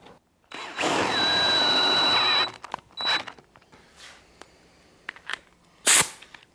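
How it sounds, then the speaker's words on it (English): An air drill with a hole saw whines loudly for about two seconds, followed by short bursts of drilling and scattered clunks and hisses. "I like using an air drill with a hole saw"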